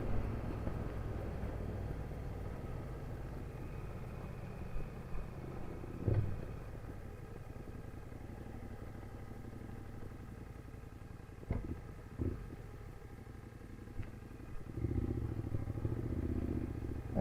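A motorcycle on a sunny Sunday commute, heard as a steady low engine drone throughout with a few faint knocks and a slight rise near the end, no talking.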